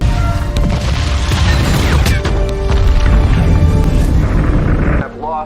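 A space station satellite explodes in the disaster film Geostorm: a loud, continuous roaring blast with crackling debris that cuts off abruptly near the end.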